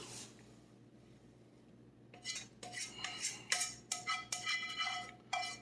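Mushrooms being dumped into a pan of creamy sauce for a baked sausage pasta: after a quiet start, a close run of metallic clinks, scrapes and utensil knocks against the pan, with no talk.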